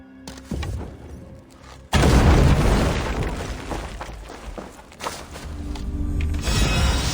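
An incendiary powder trap blows up in Assassin's Creed Valhalla: a sudden loud blast with a long fiery roar and crackle after a quieter lead-in, followed by a few further thumps and bursts, no speech.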